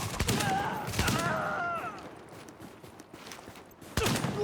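Gunfire in a video game shooter: sharp bursts of shots crack at the start and again near the end, with a whistling, warbling tone and lower rumbling in between.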